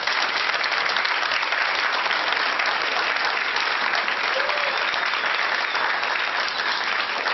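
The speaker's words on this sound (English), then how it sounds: "I would like it if you would give a round of applause to all of our panel members" Town hall audience applauding panel members at a healthcare meeting, a dense, even roar of many hands clapping that holds steady throughout without pause.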